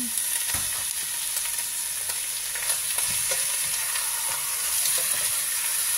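Chicken frying with browned ginger in a pan gives a steady, close sizzle throughout, broken by occasional scraping and clatter from stirring, with no voices.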